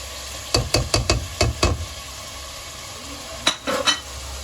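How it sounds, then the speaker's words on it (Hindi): Spices and tomatoes fry in oil in a pot, with a quick run of stirring scrapes and clacks near the start, then a pause and a few more stirs, all over a steady low sizzle. "इसको मसाले के साथ भूनेंगे, इसको भूनेंगे"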